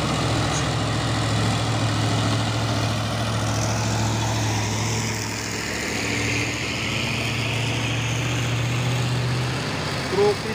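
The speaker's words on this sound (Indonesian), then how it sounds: "Truk Isuzu Giga ini ya." An Isuzu Giga truck's diesel engine idles with a steady low rumbling drone that holds unchanged throughout, with faint road noise in the background.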